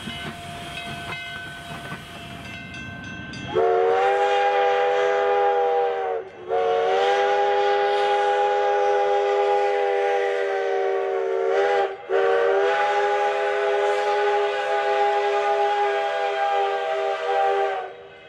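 Virginia & Truckee steam locomotive number 29 running light from the V&T shops to the Virginia City loading platform: steam hiss and chuffing, then a long, loud chime whistle blown in three sustained blasts with short breaks between.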